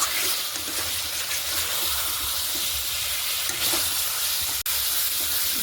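Boiled lentils poured into a pan of chicken frying over high flame for Bangladeshi chicken dalna, giving a steady close hiss and sizzle with a watery wash, one brief dropout near the end and no talk.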